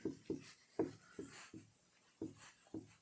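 A pen scratches on paper in short, separate strokes while someone works out a Class 10 mensuration problem on cube volumes, a close, quiet writing sound with small pauses between marks.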